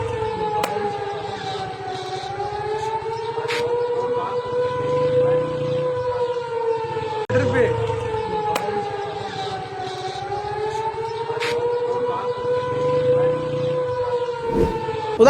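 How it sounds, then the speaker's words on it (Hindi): Air raid alert sirens wail over Lahore, two long rising and falling cycles of a steady mechanical tone, loud and continuous with faint background noise. "उधर लाहौर में लगातार जंगी सायरन, अलर्ट सायरन सुनाई दे रहे हैं"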